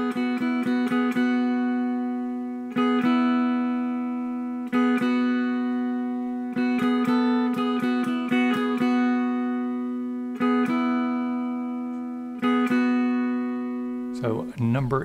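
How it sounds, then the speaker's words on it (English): A simple, catchy electric guitar riff repeats in short strummed bursts over a sustained ringing note, clean and steady, moderately loud and close, with a brief scratchy noise at the end. "It's a really simple little riff, but it's fun to play and it sounds great."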